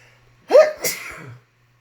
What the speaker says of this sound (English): Oh my gosh, that was a good sneeze.